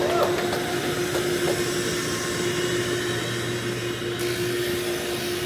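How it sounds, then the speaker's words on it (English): A vacuum cleaner and a grinding wheel run together in a pipe maker's workshop, making a loud, steady whine and roar with a constant tonal hum that carries through the whole stretch. "this is what a pipe maker's workshop sounds like. It's mostly just a vacuum cleaner. A vacuum cleaner and a grinding wheel."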